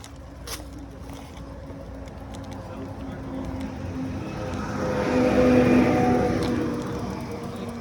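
Cars pass by outdoors, heard as a broad rushing swell that builds to a peak past the midpoint and then eases, over a low steady background hum.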